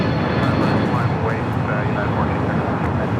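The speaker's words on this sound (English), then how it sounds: "brand new Airbus A321neo, delivered in December 2024" A brand new United Airlines Airbus A321neo airliner, bound for Chicago O'Hare, rumbles steadily at close range at Los Angeles airport, a broad continuous engine roar with people chatting over it.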